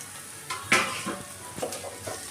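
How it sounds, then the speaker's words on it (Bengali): Okra (bhindi) being fried and stirred in a pan, with soft sizzling under a few quiet scraping strokes of a utensil and occasional light clinks, close by and fairly faint. "এইভাবে আমি ভিন্ডি রান্নাটা করে নিলাম।"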